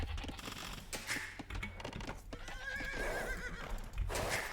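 Cavalry scout horses neigh and whinny in an Age of Empires match, Dravidians against Berbers on Arabia, amid a busy, dense game soundscape with clip-clopping hooves and clicking, several whinnies rising over steady background noise.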